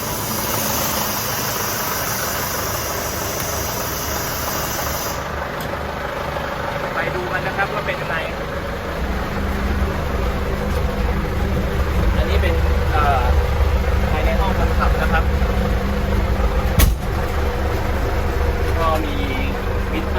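A 4x4 three-ton concrete mixer truck drives in the rain, its diesel engine a steady, loud low rumble with rain hiss over it early on. A voice talks at times.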